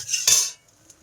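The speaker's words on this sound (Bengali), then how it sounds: "নাড়াচাড়া করব" A utensil scrapes and clanks once against a wok holding hot oil and dried red chillies, a brief close metallic stir followed by a faint tick.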